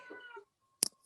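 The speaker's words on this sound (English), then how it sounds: "I hear your cat." A house cat cries out with one loud, short, strained meow close by, following a quieter stretch of softer murmuring sound and a moment of near silence.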